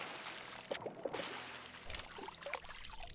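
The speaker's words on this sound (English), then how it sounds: "The water sounds are very relaxing." Gentle lapping and trickling water in a fishing video game, a quiet continuous wash with faint splashy flickers, soft and steady, with no speech.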